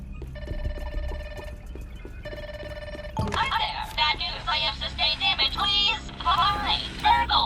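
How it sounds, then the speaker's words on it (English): An old-style telephone rings in two short electronic bursts in the video game Ground 2, followed by game sounds and character voices talking over music. "Hey, phone's ringing."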